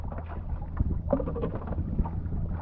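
A small boat with its electric motor out of use is paddled by hand, giving a steady low rumble of water and wind noise with faint splashing and no talking.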